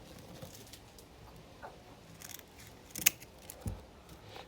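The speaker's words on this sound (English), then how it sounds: "I'm going to cut out 5 inches here" Scissors cut a strip of velcro with a few quiet snips and one sharper crisp cut near the end, close by against a soft background.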